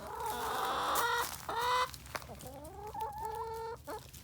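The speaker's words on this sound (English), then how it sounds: "And here are the chickens." Several chickens cluck and squawk close by, a burst of loud excited calls followed by rising, drawn-out clucks.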